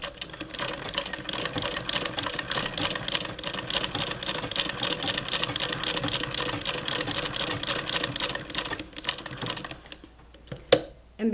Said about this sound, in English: Now we'll do the heavy cowhide, which I use usually for thumb guards for carving.